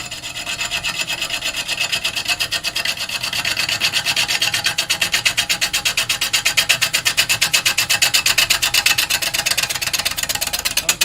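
A woodturning tool cuts a mallee burr spinning on a lathe, giving a steady, fast rasping scrape with a rapid regular pulse from the rotation, loud and close, growing slightly stronger over the stretch with no talk.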